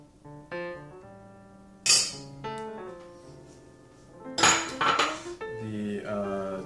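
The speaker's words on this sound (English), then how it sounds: "I'm gonna mix the rest of the ingredients. So the first thing is the 1 egg." Cornbread ingredients are mixed in a bowl as an egg is added, giving light clinks and taps of utensils against dishes with a few sharper knocks, close and without talk.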